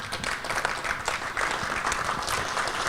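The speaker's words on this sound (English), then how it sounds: "We have a quick round of applause for our winning supporters." Steady, moderately loud applause from an awards-ceremony audience for the winning supporters, dense clapping throughout the short stretch.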